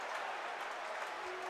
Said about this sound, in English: The crowd absolutely loves it here at Pauley Pavilion.